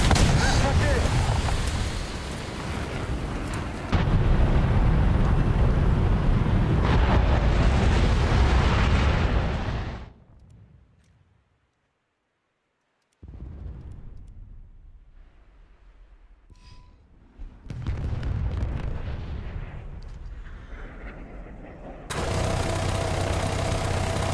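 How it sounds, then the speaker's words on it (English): A bomb detonates in a tank combat video game, a loud heavy blast with rumbling low-end decay that drops into near silence, followed by renewed engine and battle rumble. "That's a bomb."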